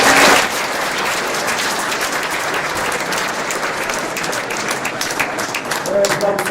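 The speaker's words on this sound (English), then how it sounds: "I'd like to please give a round of applause for the management of the school." Sustained round of applause from an audience at a school speeches and prize-giving ceremony, steady dense clapping filling the room throughout, with a brief swell at the end.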